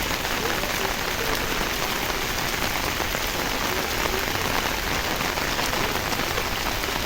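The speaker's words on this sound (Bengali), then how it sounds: "আমার ছাতার উপরে পানি পড়তেছে বৃষ্টির, সেটার সাউন্ডটা কত সুন্দর, মনে হয় টিনের ঘরে পানি পড়তেছে।" Rain falling steadily onto an umbrella, a dense, continuous patter with a tinny quality like rain on a tin roof, close and even throughout with no pauses.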